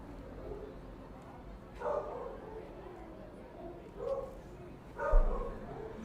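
A dog outside a home in Merida, Yucatan, Mexico barks three times in separate short bursts, somewhat distant, over a quiet indoor background.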